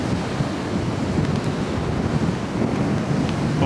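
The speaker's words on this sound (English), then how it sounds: "The waves are nicer actually over here." Ocean surf rolls in at Rockaway Beach in New York City, a steady rumbling wash mixed with gusty wind buffeting the microphone, no voices.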